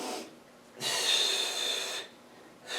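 Close, forceful breaths during an exercise routine, a loud airy exhale or inhale followed by a pause and another long rushing breath, heard alone without talk.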